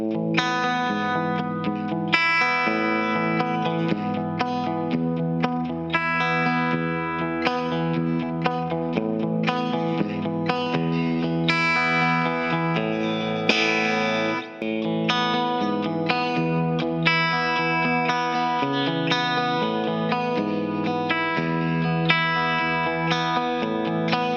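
Heavily distorted electric guitar, a Fender Stratocaster, plays chords and riffs with a thick, saturated tone and some chorus shimmer, loud and continuous without any talking.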